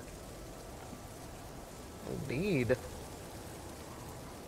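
Rain falls during a foggy storm in a survival video game, a steady hiss of drops hitting surfaces throughout, with a person briefly speaking partway through.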